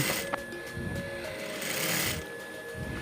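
Sewing machine stitching a fabric buttonhole backed with interfacing, a fast continuous mechanical whirr close up, steady throughout with a brief knock near the start.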